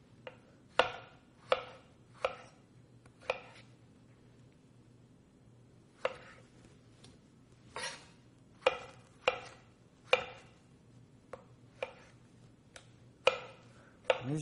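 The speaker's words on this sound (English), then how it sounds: "We take 2 tomatoes, and we cut them up into slices that we can run through the juicer." A knife slices thick tomatoes on a cutting board with about fourteen sharp, close knocks at an uneven pace, separated by quiet pauses over a low background hum, with no talking.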